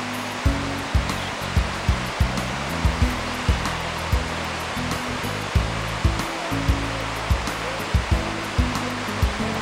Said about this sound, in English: they're just scouting out these rapids.